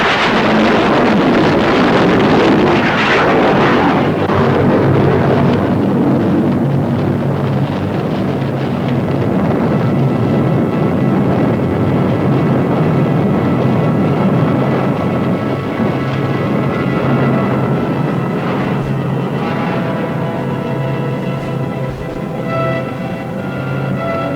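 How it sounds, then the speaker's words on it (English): A missile launch roars loudly and continuously, a dense broadband blast with heavy low rumble that holds steady for the whole stretch and thins only slightly near the end, with no voices. "Fire. Missile away."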